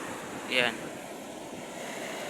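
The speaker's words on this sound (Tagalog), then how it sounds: "Lakas kasing alon dito mga Q." A steady rush of strong ocean surf and wind on a beach fills the clip, with a brief high-pitched vocal sound near the start.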